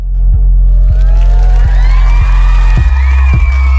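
Cheering and whooping from a crowd plays as a sound effect over a loud, booming low beat, with scattered shouts rising toward the end.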